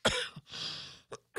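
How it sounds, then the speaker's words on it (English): A man coughs a few times in short bursts, close and fairly loud, with brief pauses between them and no talking. "I think my cough is getting better."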